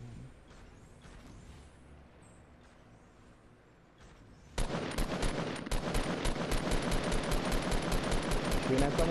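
Rapid automatic gunfire in Fortnite Battle Royale squad play, starting about halfway through as a loud, sustained burst of regular shots after quieter sparse pops and a talking voice earlier.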